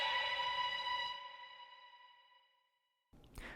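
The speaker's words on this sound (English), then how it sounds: "In this case, I added a reverb to the Moby sample so it adds some depth to it." A Moby sample with added reverb rings out in sustained bright tones, then decays into a long fading tail before a brief noisy burst.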